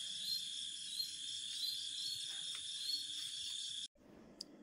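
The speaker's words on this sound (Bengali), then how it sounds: "ঝিঝি পোকা, অনেক পোকার ডাক।" Crickets chirp in a dense, continuous trilling chorus on a dark night at an eco resort, loud and close, then cut off abruptly near the end leaving faint night ambience.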